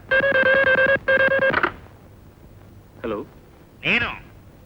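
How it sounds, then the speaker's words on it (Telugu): A telephone rings twice in quick electronic bursts, then stops; a couple of short voiced sounds follow in the quiet. "పాండుగాడికి ఫోన్ చేస్తాను"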